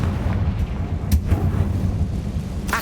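Confringo blasting spell in the video game Hogwarts Legacy, a deep rumbling blast with a couple of sharp cracks riding on a continuous low roar, loud and close.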